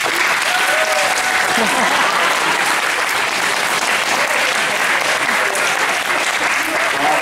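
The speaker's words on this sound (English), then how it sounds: "Please keep a round of applause" An audience at a saxophone clinic in Taipei breaks into applause, a dense, loud and steady wash of clapping from many hands that holds throughout, with some voices mixed in.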